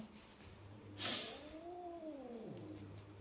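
A fat cat gives a single drawn-out, wavering yowl lasting over a second, close by and over a low hum, with a sharp rustle just before it.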